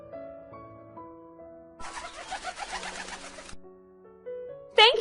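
Cartoon little birds, pigeons or doves cooing in a fairy-tale scene, a brief burst of soft bird calls over a gentle musical backing, with a louder chirp at the end.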